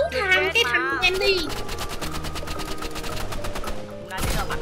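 Rapid automatic gunfire in Marvel Rivals, a fast even stream of shots running for several seconds, mixed with game music and voiced lines, with a player speaking over the start.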